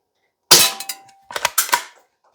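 An Umarex NXG CO2-powered BB pump-action shotgun fires outdoors with a sharp, loud crack, followed by a short burst of clattering clicks and rattles from working the pump, heard close and without talk.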